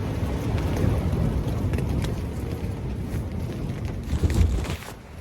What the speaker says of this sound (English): This wind is getting pretty bad. It could be up to 80-mile-an-hour winds.